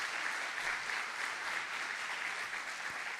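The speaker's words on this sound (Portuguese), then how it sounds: "Tem uma salva de palmas." Continuous applause from a crowd, many hands clapping steadily throughout at an even, moderately loud level.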